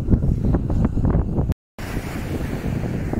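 Strong wind buffets the microphone on a beach, a loud rough rumble with gusting surges and a brief cut in the middle, and surf may lie beneath it.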